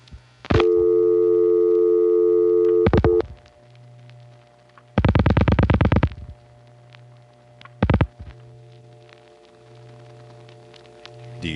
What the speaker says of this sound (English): It's a second dial tone.